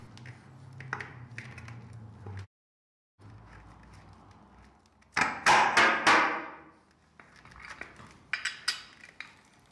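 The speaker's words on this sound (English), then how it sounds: "screw in the hex screw using the assembly key" A hex screw is tightened with an assembly key while attaching a counterweight to a spider base, giving close metallic clicks and clanks in scattered bursts, including a louder cluster of rattling and scraping midway, with short pauses between.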